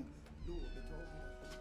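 Cats meow in a horror film scene from Let Me In, with a few short, fairly quiet cries beneath speech.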